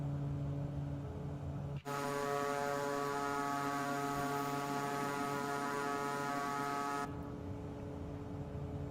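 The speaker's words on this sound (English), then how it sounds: "The Boom Supersonic's audio kind of disappears after just a little bit." Boom Supersonic aircraft engine in Microsoft Flight Simulator 2024, a steady droning hum that steps up into a louder, brighter whine with layered tones, holds for several seconds, then cuts off abruptly.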